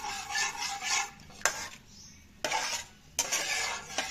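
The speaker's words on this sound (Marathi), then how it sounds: "आता आपण हे हलवणार आहोत चांगल्या प्रकारे" Gravy for restaurant-style gobi manchurian, thickened with cornflour water, stirred in a pan with a spoon: scraping and swishing strokes broken by a few sharp clinks against the metal, close and alone.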